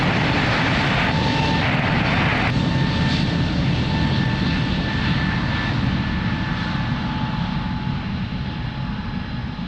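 A fixed-wing airplane takes off from runway 02 at Lisbon Airport, its engine roar loud and steady throughout, with a faint tonal whine riding above the broad rumble.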